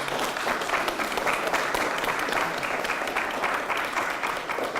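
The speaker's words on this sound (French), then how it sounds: "J'aimerais ça qu'on les applaudisse" Congregation applauding at a baptism ceremony, steady sustained clapping from a large group filling the room, fairly loud and even throughout with no talking.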